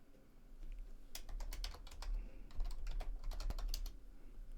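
Fingers type a sudo password on a computer keyboard during an Ubuntu upgrade, a quick run of light, crisp key clicks in bursts, close and fairly quiet against a faint room hiss.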